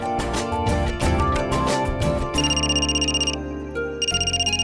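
A mobile phone ringtone plays loudly in a home, a bright repeating electronic melody with a steady pulsing beat, alone without talk.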